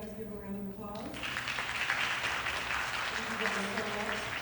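A panel audience at a hip hop anniversary celebration breaks into steady applause after about a second, the clapping holding loud and full through the rest, with a voice speaking faintly underneath at the start.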